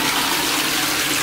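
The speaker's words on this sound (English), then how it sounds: "Okay, and then you flush it right here." A high-tech toilet flushes with a loud, dense rush of water, heard close up and alone for about a second.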